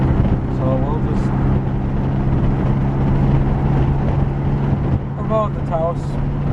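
A 2000 Plymouth Neon base model's exhaust drones with a steady low rumble, heard through rolled-down windows alongside wind and road noise while people talk over it.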